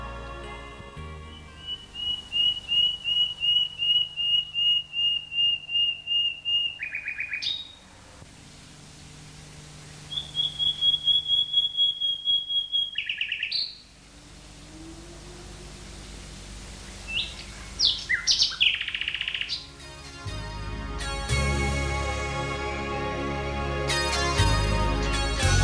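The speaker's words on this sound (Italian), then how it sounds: "accompagnata da quel quotidiano silenzio che solo qualche usignolo, col suo melodioso canto," A nightingale sings near the Livenza river in Sacile, repeating clear whistled phrases in bursts with short pauses, then a rapid, varied flourish of trills and chirps that grows louder toward the end over faint steady background hiss.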